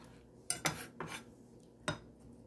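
Som tum ingredients and peanuts being pounded in a small mortar, four sharp clacking knocks in an uneven rhythm, close and distinct, with no voices.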